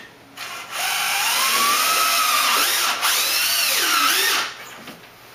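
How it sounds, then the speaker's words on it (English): A power drill drives screws into a bracket, one continuous whirring run with rising and falling motor pitch, close and loud, then stops. "Now we're going to go ahead and install the remaining four screws, 2 in each bracket."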